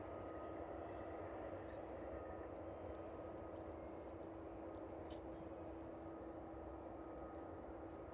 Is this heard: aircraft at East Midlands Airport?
yes